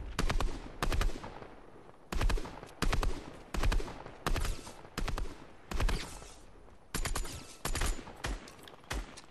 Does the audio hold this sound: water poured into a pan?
no